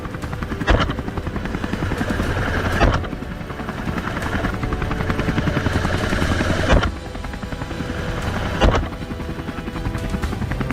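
A helicopter flies over a mountainside during a wild boar hunt, its steady loud rotor chop and engine roar filling the scene continuously with periodic swells.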